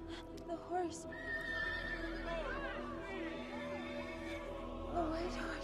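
A white horse neighs in a loud, wavering whinny, with hoof clatter and a crowd's voices around it.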